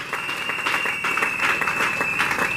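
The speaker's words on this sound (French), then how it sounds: "Nous acclamons pour la gloire de notre Seigneur." A church congregation applauds in praise of the Lord, a steady, dense wash of clapping from many hands that carries on without a break, filling the room at an even loudness.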